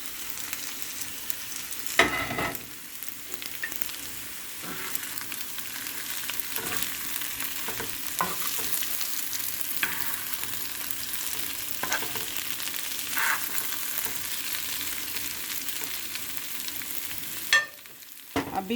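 Fried potatoes and okra sizzling on a tawa, a steady crackling fry throughout with several louder stirring scrapes, including sharp bursts near the start and near the end.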